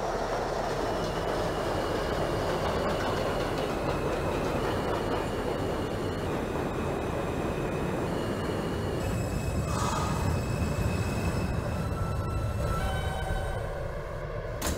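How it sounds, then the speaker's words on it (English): An R160B Alstom subway train in the OpenBVE simulator game runs along the track with a loud, steady rumble of wheels and motors, brief squealing tones rising near the middle, without any speech. "This is a Queensbound F local train."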